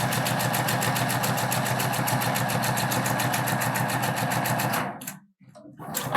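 A sewing machine stitches forward through fabric while sewing a backstitch, its fast steady mechanical whir running loud and close before cutting off abruptly near the end.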